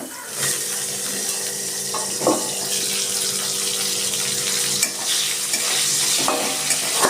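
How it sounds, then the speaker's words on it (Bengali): A steady sizzling hiss of vegetables, including eggplant, frying in hot oil, with occasional clinks and stirring sounds, close and continuous throughout. "দেখুন ওই সবজি ভাজা তেলের ভিতরে"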